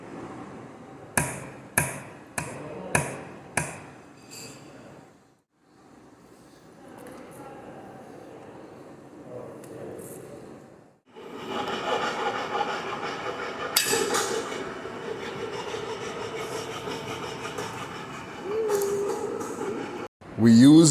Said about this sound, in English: We used a solid punch to mark the points in each workpiece where holes would later be drilled.